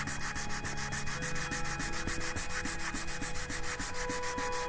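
Steady back-and-forth scrubbing of sandpaper on a plastic Enterprise refit starship model, close and continuous with a regular rhythm and no talk.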